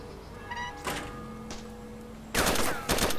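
Gunshots in DayZ Standalone: a few loud, sharp reports arrive close together near the end after fainter thuds, with no talk over them.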